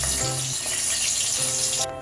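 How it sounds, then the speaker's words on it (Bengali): Parboiled cauliflower frying in the oil left over from frying katla fish, a continuous close sizzle with a faint watery hiss and a low hum underneath, dropping off abruptly near the end. "এবার আমি মাছ ভাজার তেলেতেই এই সেদ্ধ করা ফুলকপিগুলো ভেজে নেব।"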